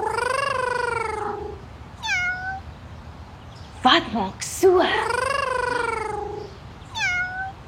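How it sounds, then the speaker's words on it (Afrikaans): A cat meows several times, drawn-out rising and falling cries with short chirpy calls between, loud and close, while a voice asks a brief question in the middle. "Dis 'n kat wat miau."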